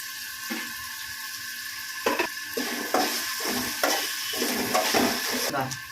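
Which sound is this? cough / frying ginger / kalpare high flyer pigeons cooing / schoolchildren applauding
frying ginger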